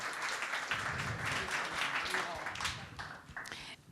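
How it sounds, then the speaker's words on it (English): A warm round of applause from an audience at a TechVan startup talk, dense clapping filling the room for several seconds, with voices murmuring underneath before it thins out near the end. "A warm round of applause for Kim."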